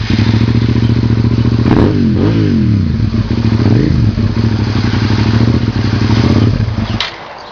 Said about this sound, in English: So right now this is my sister's motorcycle